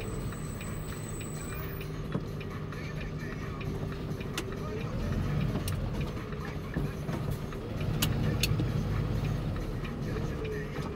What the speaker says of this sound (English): Oh, great, another car.